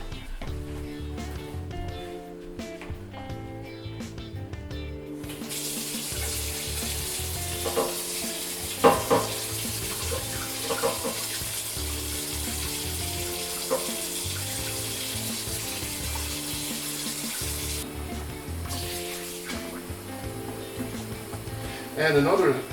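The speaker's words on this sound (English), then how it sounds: "I'm going to rinse the alligator, get rid of the buttermilk since it's already done its job." Alligator meat rinsed of buttermilk under a running kitchen tap, a steady wash of water hiss running nearly throughout, with a few clinks and knocks and faint voice murmuring underneath.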